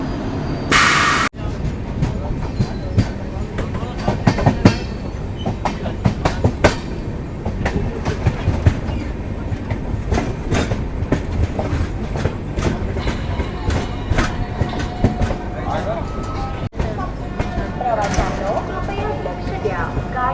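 The Ayodhya Express rolls along the rails, with a loud, continuous rumble and rhythmic clickety-clack of wheels over joints heard from inside the carriage, with occasional voices in the background.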